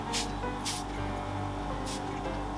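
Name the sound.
makeup setting spray misting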